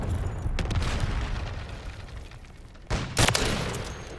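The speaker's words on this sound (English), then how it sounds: "friendly cruise missile deployed" Cruise missile strike in the shooter video game Modern Warfare 3, where a sustained roar of rumbling explosions and gunfire breaks into a sharp, loud blast near the end.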